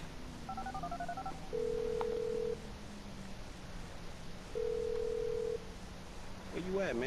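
Two bursts of steady phone dialing tones from a phone in the video game GTA 5, each lasting about a second, heard over a low game soundtrack with a brief voice at the end.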